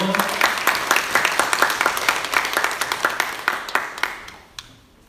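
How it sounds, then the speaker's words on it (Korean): Church congregation applauding during a Sunday worship service, a dense patter of many hands clapping at moderate distance that thins into a few scattered claps near the end. "다시 한번 박수로 격려해 주세요."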